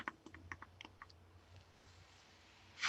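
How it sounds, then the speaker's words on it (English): A short run of light mechanical clicks, like quick typing, ticks over about a second and then fades into a quiet room before a soft rustle at the end. "Sounds like you're typing at the same time."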